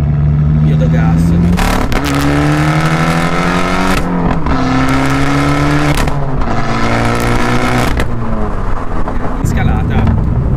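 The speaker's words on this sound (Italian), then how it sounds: "questo tipo di borbottio che avrete sentito quando ha scalato da sola la macchina" Fiat 500 Abarth with MTA automated gearbox, its engine revving loudly in repeated rising pulls with brief drops between shifts and a throaty burble, heard up close throughout.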